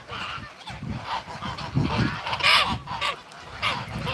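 Farm ducks and geese honk and quack repeatedly in an uneven flock chorus, fairly loud and close, with bursts of overlapping calls.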